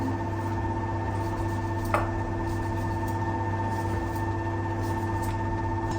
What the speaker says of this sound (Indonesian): Dan kalau berisik itu suara mesin cuci piring